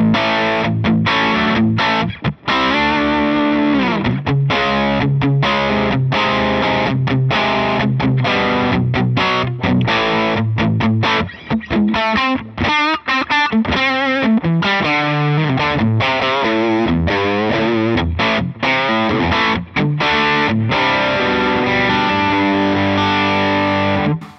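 Heavily overdriven electric guitar through a Line 6 Helix Matchstick amp model's overdrive channel plays loud, gritty riffs and chords with choppy stops, crunchy and sustained, alone with no voices.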